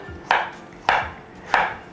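Pumpkin cut into chunks on a board, three distinct knife chops spaced evenly, crisp and close, with quiet gaps between.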